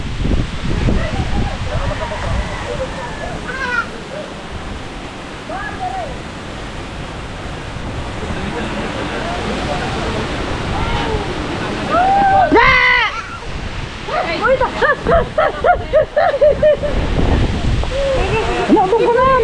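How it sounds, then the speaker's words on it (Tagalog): Strong wind roars and buffets continuously, with people talking loudly over it toward the end. "Mahangin kasi."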